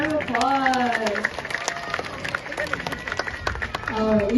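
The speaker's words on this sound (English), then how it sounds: "Give yourselves a big round of applause." An audience claps at a wildlife safari show, a scattered ripple of applause under a presenter's nearby amplified voice, with bird-like calls at the start and end.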